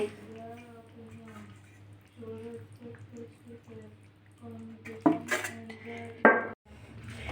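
Cooked black carp curry being ladled from a pot into a bowl and a plate, with soft scraping and clinks of metal utensils under a person talking.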